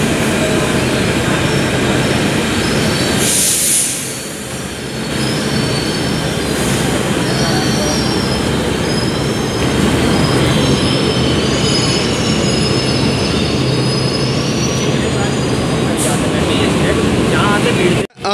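A Delhi Metro train at a station rolls through with a loud, continuous rumble and long metallic wheel squeals close by, while people talk over the din.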